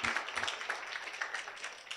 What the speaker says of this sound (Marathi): आपण सर्वांनी टाळ्या वाजवून त्यांना शुभेच्छा